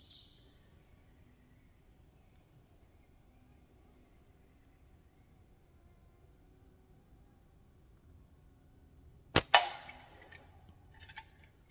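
Slingshot shooting on a hillside: a long quiet stretch, then one sharp snap of a shot near the end, followed by a few fainter clicks and rustles.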